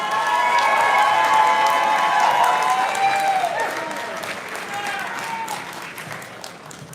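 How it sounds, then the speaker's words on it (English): Audience at a soirée applauding and cheering loudly, whoops and shouts rising over dense clapping early on, then easing into steadier, softer applause. "Nice round of applause for the one and only Benji Hoffman!"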